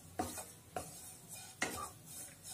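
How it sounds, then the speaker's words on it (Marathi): Roasted coconut, dry-toasted without oil, scraped from a kadhai onto a plate, three short scraping clinks of a spoon against the pan, close and quiet. "हे जे भाजलेलं खोबरं आहे ते एका प्लेटमध्ये काढून घेते आता"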